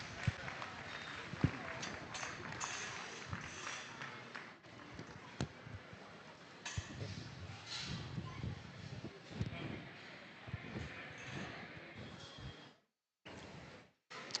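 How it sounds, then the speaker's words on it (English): Audience applause in a livestock show arena during a Kansas junior breeding gilt show, a sustained patter of clapping with scattered sharp claps and background noise, dropping away briefly near the end. "Let's give them a round of applause as they head out."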